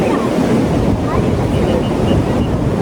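Loud, continuous surf rolls in on Kovalam beach, heavily mixed with blustery wind noise across the microphone.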